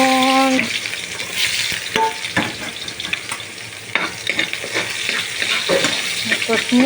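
Garlic and onion fry in a little oil while cooking squid, a close, steady sizzle with frequent stirring scrapes and utensil clinks, and no talking.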